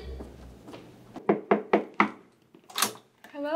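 Knocking on a door during a stage performance, a run of about four firm raps followed by a couple more, with brief voices around them.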